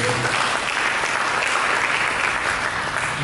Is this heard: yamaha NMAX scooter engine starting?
no